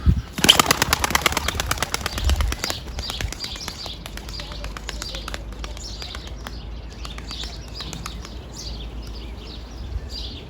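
A tumbler pigeon bursts into flight with a loud rapid flutter of wingbeats up close, then its wings fade into lighter repeated flaps as it climbs away, with chirping birds in the background.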